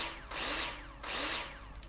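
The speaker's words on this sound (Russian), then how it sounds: "А, блядь, тут была дрель." A power drill in the Builder Simulator construction game whirs in two rising and falling bursts of about half a second each. The sound is close and steady and has no talk over it.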